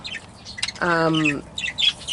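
Pet birds kept for breeding give a short harmonic squawk amid scattered high chirps, close and fairly loud, with faint background noise.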